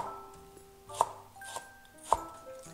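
Knife chopping Chinese cabbage into fairly large pieces on a board, a few sharp separate cuts spaced about a second apart, close and fairly quiet.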